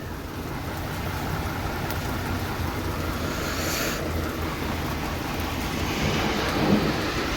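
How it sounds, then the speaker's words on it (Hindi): Heavy rain pours steadily in Saudi Arabia with a constant loud wash and a low rumble underneath that may be thunder, holding at an even level throughout with no voices. "हर थोड़ी देर के बाद बारिश जो है वो थोड़ी सी रुकती है और फिर वापस आ जाती है।"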